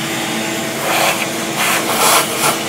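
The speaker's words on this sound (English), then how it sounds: "So I get the vacuum, and I'm just going to vacuum out any of the debris there" A vacuum cleaner sucks debris out of a car engine area around the thermostat and vent plugs, a loud steady close whine with rough scraping surges as the nozzle moves, no talk.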